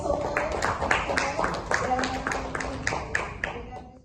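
Audience applause at an Indonesian press event on BPA-free gallon water research, a crowd clapping steadily in a dense patter with a few sharper individual claps, fairly close, under a faint voice.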